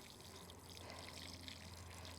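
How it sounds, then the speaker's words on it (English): Water poured over the layers of a Greenstalk vertical planter while watering plants, a faint, steady trickle and splash that runs evenly throughout. "You want to give it a pretty good soak all the way around."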